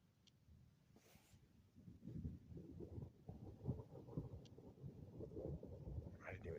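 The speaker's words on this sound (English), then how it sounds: "I didn't even see lightning for that thunder." Distant thunder from a spring thunderstorm rolls in as a faint, low, drawn-out rumble building over several seconds, heard outdoors with light wind noise.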